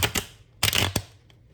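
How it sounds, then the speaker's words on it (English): Tarot cards being shuffled by hand, heard as crisp papery riffling bursts, two clustered flurries close up with a softer flick near the end, no talking. "Really be taking me like 10 minutes just to shuffle the cards."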